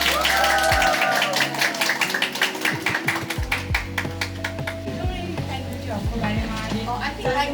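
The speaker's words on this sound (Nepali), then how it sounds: "यसको लागि सबैजनाले ताली बजाइदिनु होला" An audience claps at the grand opening of the Refined Beauty Hub shop at Machapokhari-Balaju: steady, fairly close applause that starts over a held tone and continues evenly as the tone fades.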